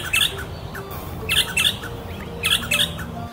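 A male Eastern Rosella gives sharp, bright calls in mating season, three short bursts of chirps spaced about a second apart, close and clear over a steady background hiss.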